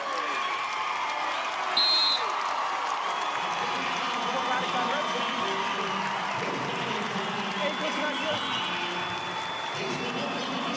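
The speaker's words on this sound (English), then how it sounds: "Let's listen to the crowd." Arena crowd at the Big 12 wrestling championship final roars with sustained cheering and applause, a broad steady wash of noise heard from within the stands, with a brief whistle-like tone near the start.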